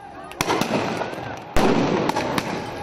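Firecrackers burst at a street protest in Basel as riot police face demonstrators, with several sharp cracks, two louder bangs and smaller pops over a noisy crowd background.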